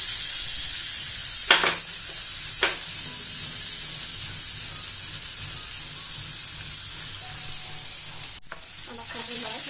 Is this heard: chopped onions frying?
yes